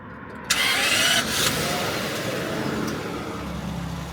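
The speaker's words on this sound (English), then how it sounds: "one of the coolest things about this car, the starter sound" A Toyota Century's V12 engine is cranked by the starter, fires with a sharp roar, then settles into a steady, deep idle.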